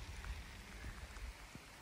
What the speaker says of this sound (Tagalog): Ulan-ulan pa.